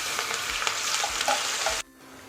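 Tomato paste hitting a pan of frying dal and curry leaves, a loud sizzle with stirring ticks that cuts off abruptly near the end, leaving a quieter background.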